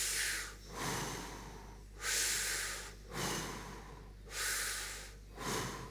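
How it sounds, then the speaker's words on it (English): Someone breathes in and out during a breathing exercise, drawing five or six strong, airy breaths in a steady rhythm, each one a loud hissing rush with short pauses between them. "Now we're going to breathe into your mouth"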